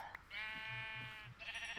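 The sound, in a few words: sheep bleating in Minecraft video game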